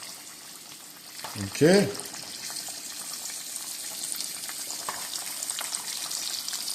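Chicken pieces fry skin-down in a pan with a steady, soft sizzle, and a short louder spatter as a piece goes in. A voice briefly speaks.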